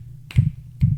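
Two crisp finger snaps, close and loud, about half a second apart, with nothing else around them.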